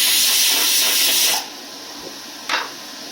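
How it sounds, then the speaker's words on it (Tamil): Chopped bottle gourd sizzles in a hot pan for a Tamil bottle gourd and pea curry, a loud steady hiss that drops off abruptly, then a brief burst of sizzle as the pieces are stirred. "சொரக்காய் நல்லா வதங்கட்டும்."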